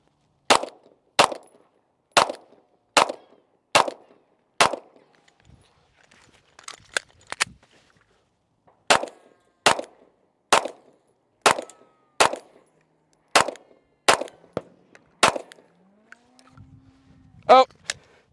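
A Glock 19 pistol is fired in a drill, with two sharp, loud strings of about six evenly spaced shots separated by a pause with quieter handling sounds and faint talk, followed by a final shot.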